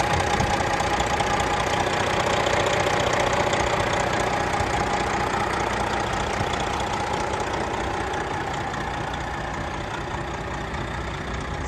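Pre-emission 12.7-liter Detroit diesel in a Peterbilt 389 glider, idling steadily with the hood open, a constant rumbling drone with a faint knock, close and continuous, with no talk.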